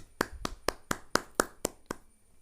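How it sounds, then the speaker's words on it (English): A classroom of children claps for a classmate, eight sharp, evenly spaced claps in a quick rhythm, close and fairly loud, then stopping. "Give him a round of applause."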